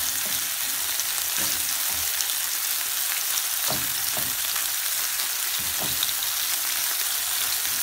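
Spelt noodles sizzle steadily in a hot pan during a stir-fry, a dense, close hiss broken by several soft scraping stirs of a utensil against the pan.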